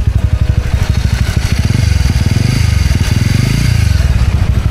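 A touring motorcycle engine running close by on a rainy day, a loud, steady pulsing idle with rhythmic thumps and a slight rise and fall in revs.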